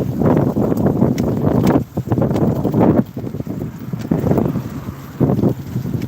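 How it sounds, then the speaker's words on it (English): Steady wind buffeting a microphone, loud and continuous with gusty swells and brief lulls; no talking. "It's a little bit windy, not too bad."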